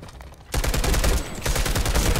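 Rapid bursts of TR Carbine gunfire in a video game, loud and close, with a brief pause before a second sustained volley.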